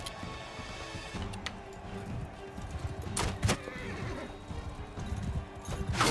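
A horse in the medieval battle game Mount & Blade II Bannerlord whinnies loudly while hooves clip-clop steadily beneath, with a few sharp impact sounds over a busy game soundscape.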